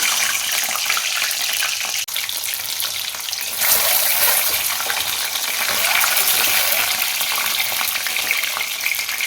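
Eggs fry one by one in hot oil with black cumin in a pan, sizzling loudly and continuously throughout, with a brief clink and a surge of spitting partway through.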